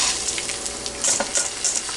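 Rice sizzling and crackling as it fries and toasts in a hot pan for Spanish-style rice, a steady hiss with brief louder pops and stirring scrapes, no voices.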